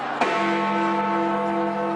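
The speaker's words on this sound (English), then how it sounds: "Big Ben is just a bell inside it." Big Ben, the great bell in the London clock tower, rings with one strong strike, then a long sustained hum of layered tones that fills the rest of the moment, loud and steady, with no voices.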